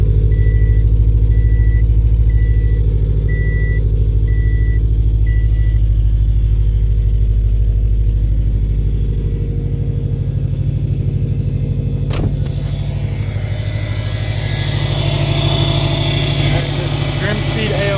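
A car engine idles roughly with a steady loud rumble, and a repeating reversing-style beep sounds over the first six seconds.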